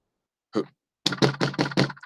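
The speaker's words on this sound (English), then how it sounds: "Who's that knocking at the door?" Knocking on a door: one isolated rap, a short pause, then a quick run of five sharp knocks close by, with nothing else around them.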